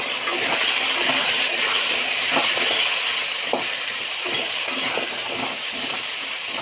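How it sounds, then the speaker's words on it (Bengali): Potato sizzles in a pan alongside elephant foot yam for a Bengali prawn curry. The frying hiss is steady and moderate, broken by scattered spatula scrapes and clinks against the pan. No voices are heard. "আলুটাও একটু ভেজে নেব"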